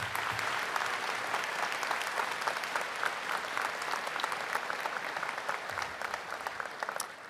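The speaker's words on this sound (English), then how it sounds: "So please give them a round of applause." Full audience applause at a high school commencement ceremony for Pickerington High School Central: dense, continuous clapping from a large crowd, even in level throughout and heard from a slight distance.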